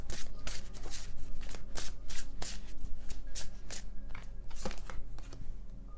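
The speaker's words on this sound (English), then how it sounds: "I don't look at the deck while I shuffle" A deck of tarot cards is shuffled by hand in a steady run of crisp riffling bursts, close and fairly loud, with no voices.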